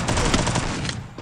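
Gunshots in a multiplayer shooter game, a quick rapid burst of several sharp shots over a little over a second, fairly loud with faint background chatter.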